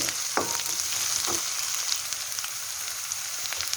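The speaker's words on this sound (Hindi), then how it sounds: "बहुत ही अच्छी तरह ये फ्राई हो चुका है इसके अंदर" Egg masala paste sizzles and crackles in a hot pan, a steady hiss with occasional pops and stirring scrapes.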